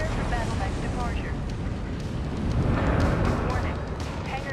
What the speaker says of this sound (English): Warning. Hangar doors opening. Stand clear.